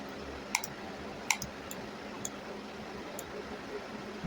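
A computer mouse clicks while working in SolidWorks CAD software, a few sharp, close, faint clicks spaced irregularly over a steady low background hum.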